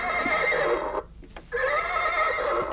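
Horse neigh from a Bach Peekaboo Farm baby toy, a loud close electronic whinny with clip-clop hooves, briefly broken by a pause before resuming.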